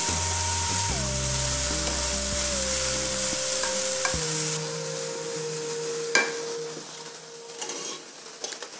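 Chopped carrots are stirred as they fry in a pan for a vegetable Frankie, with a steady sizzle and occasional scraping stirs over faint background music, close and moderately loud.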